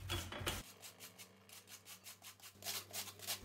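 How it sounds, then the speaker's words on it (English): Cabbage rubbed over the big holes of a box grater, a steady run of rhythmic rasping strokes, close and fairly quiet, with no one speaking. "To grate the cabbage and the cauliflower, I recommend you use the grater with big holes. I will start with the cabbage."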